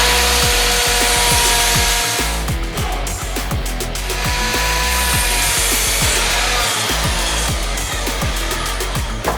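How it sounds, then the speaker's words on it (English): A miter saw cuts through timber in a workshop, a loud, continuous grinding whine with dense rasping texture throughout, steady and close with no talk. "First thing is get the miter saw in here"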